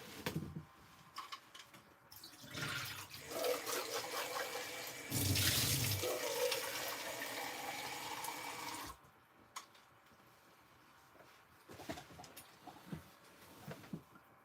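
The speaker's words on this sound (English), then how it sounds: "I'm just gonna get some more water." A tap runs water into a sink in a steady stream that lasts several seconds and then shuts off, leaving quieter small clinks and movements afterward.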